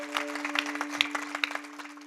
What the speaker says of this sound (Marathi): तितक्या गोड जरा जोरात टाळ्या वाजवा ना सगळे